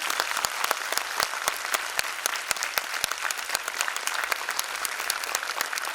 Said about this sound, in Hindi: लहेजा आर्ट फाउंडेशनच्या या सगळ्या कलाकारांसाठी एकदा जोरदार टाळ्या